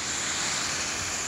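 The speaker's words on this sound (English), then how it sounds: "there's a giant waterfall" A waterfall at the lower dam on the Bog River roars as a steady broadband rush, loud and even throughout with no voices.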